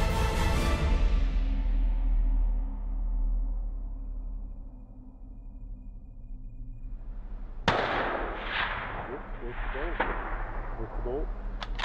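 A single sharp rifle report cracks out during a sheep hunt in snowy mountain country, loud and close, with the echo rolling away behind it while a voice talks around it.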